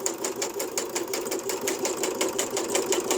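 A sewing machine stitches through cardboard scraps at a quick, steady pace, its needle chattering in a dense, even rhythm close by, with no talking.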